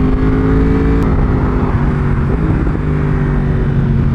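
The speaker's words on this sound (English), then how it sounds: "The auto blip downshift is so cool. The sound this thing makes is just unbelievable." A 2019 Yamaha R1 on a race track makes an auto-blip downshift: a loud, close engine howl with a sharp blip near the start, then a steady, slightly lower drone, with no talk.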